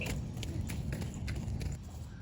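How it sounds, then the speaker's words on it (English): Horses' hooves clip-clopping on a morning walk out to their summer paddock, a soft irregular series of close, light hoofbeats over low background rumble. "I'm just going to finish bringing out the rest of the horses"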